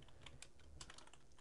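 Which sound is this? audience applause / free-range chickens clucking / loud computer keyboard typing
loud computer keyboard typing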